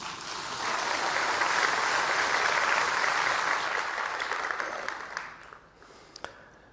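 Audience applause at a nursing workforce conference swells quickly into a steady, full clapping that holds for several seconds, then thins out to scattered claps and fades.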